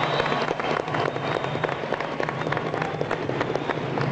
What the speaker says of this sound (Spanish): Un aplauso para la camarada.